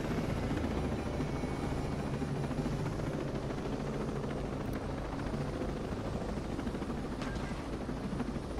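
Helicopter in Ghost Recon Breakpoint, a continuous loud rotor and engine drone that stays close and steady throughout with no pauses.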